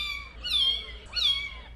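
A kitten gives two clear, high meows, rising then falling in pitch, close and alone against a quiet background.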